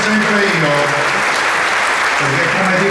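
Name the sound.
crowd applause at political rally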